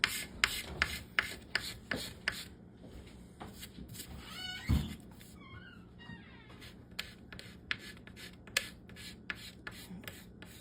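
A knife scrapes along wood while a kids' bow is shaped, giving faint, steady rasping strokes nearby, broken by regular sharp ticks and a brief squeak partway through.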